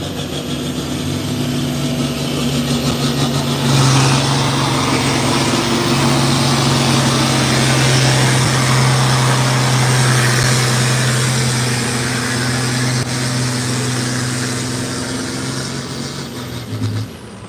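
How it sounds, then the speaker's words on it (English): Antique tractor powered by a sawmill motor at a farm stock and antique tractor pull in Fox Township, running as a steady, loud, close engine drone that swells briefly early on and drops in pitch near the end. "sawmill motor in that tractor"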